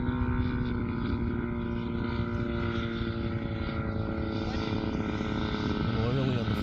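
A giant scale RC F8F Bearcat model plane comes in to land with full flaps, its propeller engine droning steadily and loudly throughout with a slight pitch change near the end.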